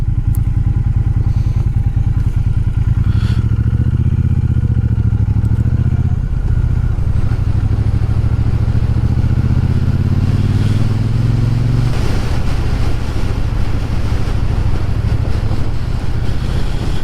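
A Triumph T120 motorcycle being ridden, its engine a loud steady low throb with rising and falling revs and rushing road noise, heard up close for the full stretch.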